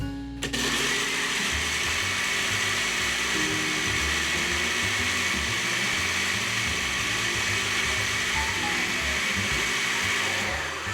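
A blender runs on low speed, mixing leek soup with broth: a continuous, loud motor whir that starts abruptly and holds steady for about ten seconds, with a churning undertone and no speech.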